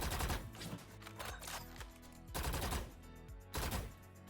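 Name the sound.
gunfire in Valorant video game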